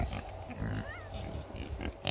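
A farm pig lets out a few low, close grunts and snuffles over steady outdoor background noise, with no talk.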